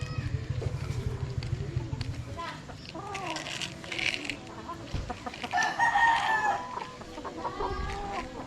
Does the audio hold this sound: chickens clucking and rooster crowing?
yes